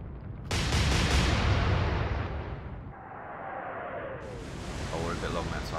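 Naval guns firing in the Atlantic Fleet warship game: a sudden heavy blast opens a long roaring rumble that fades, followed by a second whooshing surge, loud and broad.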